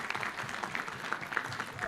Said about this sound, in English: Can you give an applause to that?